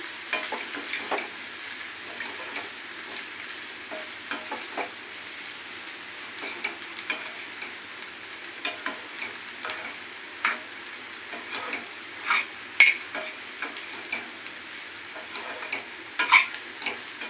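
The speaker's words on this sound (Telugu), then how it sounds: "ఇప్పుడు అన్నీ బాగా కలుపుకుందాం ఫ్రెండ్స్" A spice mixture being stirred and fried in a pan, with a soft, continuous sizzle and repeated scraping stir strokes, fairly faint and close, with no talking.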